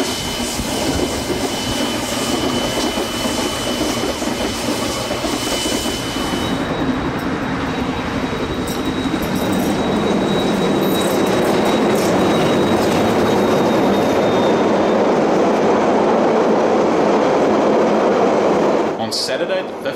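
Steam locomotive JA 1271 hauls an excursion shuttle train around suburban Auckland, a loud sustained rumble of wheels and rolling stock with a steady roar and brief squeals, a voice speaking over it.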